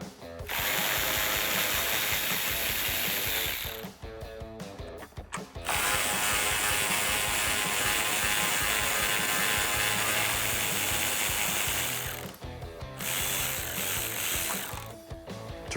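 A ratchet wrench backs out 10mm bolts holding the headlight on a 2009-2018 RAM 1500. Long runs of loud, rapid ratcheting clicks sit close to the mic, broken by a few short pauses.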